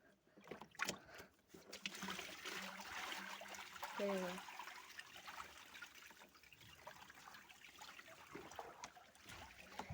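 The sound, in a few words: water being poured out of a tub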